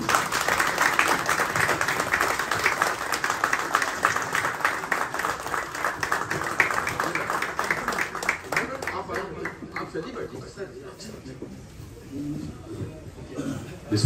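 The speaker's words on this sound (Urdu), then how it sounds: "قاسم علی شاہ صاحب کا استقبال کیجیے گا بھرپور تالیوں کے ساتھ" A standing audience welcomes speaker Qasim Ali Shah with loud, steady applause that carries on for several seconds and then thins out and fades, with voices and shuffling underneath.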